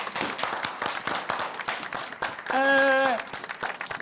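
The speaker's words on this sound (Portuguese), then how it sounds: "Palmas!" An audience claps steadily and fairly loudly, with a brief whistle-like tone rising above the applause midway.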